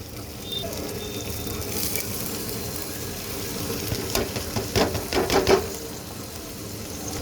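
Cabbage, peas and green chillies sizzle in hot oil in a pan, a steady close frying hiss with a few brief clattering stirs near the end.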